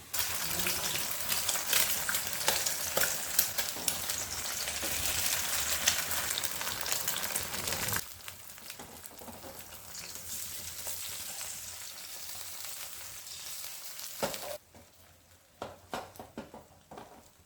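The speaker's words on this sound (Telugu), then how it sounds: "ఇప్పుడు మనం ఎగ్స్ కొట్టుకొని ఇందులో వేసుకుందాం." Beaten eggs frying in oil in a home kitchen pan for egg fried rice, a steady broadband sizzle that is loud at first, then drops to a softer, crackling fry with a few sharp pops near the end.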